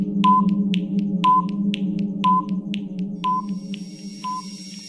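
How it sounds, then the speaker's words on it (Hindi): A quiz countdown timer effect ticks off evenly spaced electronic beeps, one each second, each with a short chirp, over a steady low synthetic hum, with no talk. "टाइम अप गाइस टाइमर आ गया और ख़त्म भी हो गया"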